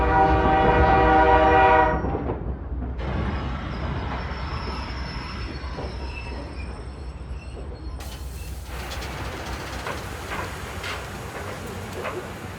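A train pulls into Sarajevo station. A loud horn blast opens the sound, followed by a long stretch of rumbling, clattering wheels and hiss that grows brighter and noisier toward the end.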